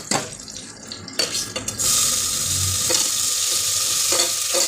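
Tomatoes being fried and stirred in a pan for Tamil-style tomato rice, a loud continuous sizzle with clanking spoon strokes and scraping, no talking.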